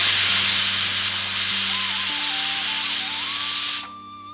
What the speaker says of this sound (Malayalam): പ്രഷർ കുക്കർ മീഡിയം ഫ്ലെയിമിൽ വെച്ച് ഒരു വിസിൽ വരുന്നത് വരെ വേവിച്ചെടുക്കാം